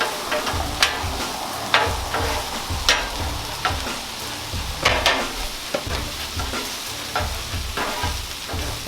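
Shrimp and crab stir-fry sizzles steadily on a Blackstone griddle, with a constant frying hiss broken by sharp spatula scrapes and taps in an irregular rhythm, close and fairly loud.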